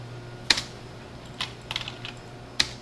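Keys on a computer keyboard are tapped while a post is being written, a few sparse, sharp clicks spaced across a quiet room, close and distinct with no talking.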